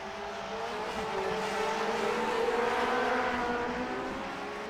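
Lotus 49 Grand Prix race car engines roaring at Silverstone in the iRacing sim, a steady loud drone of several overlapping engine notes rising and falling together, with no talk over it.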